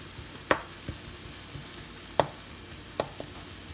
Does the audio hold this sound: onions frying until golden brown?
yes